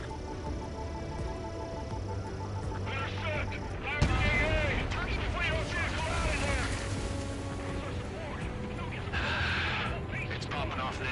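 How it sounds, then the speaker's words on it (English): Bombs drop and explode in an Ace Combat air mission, a heavy blast landing partway through over steady aircraft engine roar and whistling, with radio voices talking throughout. "Bombs away."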